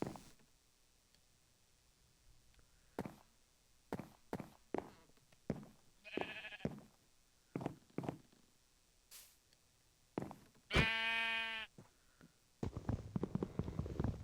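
Sheep in a video game bleat in short, harmonic calls, one clear bleat early and a longer one later, separated by sparse clicks and taps over a quiet background.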